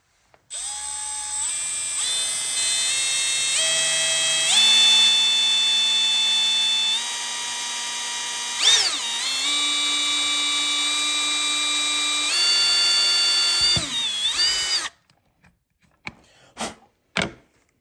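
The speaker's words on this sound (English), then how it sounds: "I'll drill a little pilot hole first to get started" A power drill whines at a steady pitch that steps up and down as it drills a pilot hole in a kayak fitting, then stops, followed by a few brief knocks.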